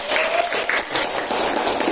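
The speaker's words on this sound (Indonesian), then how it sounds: "tepuk tangan buat Jesse." A classroom of students applauding a classmate, steady dense clapping that fills the room evenly and loudly from start to finish, with no speech over it.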